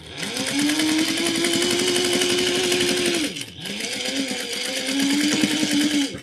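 A sewing machine stitches the lining of a zippy bag with a tight 1/8-inch seam and backstitching, running loudly in two long bursts separated by a short pause.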